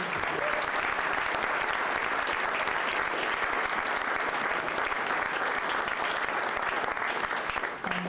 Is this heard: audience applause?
yes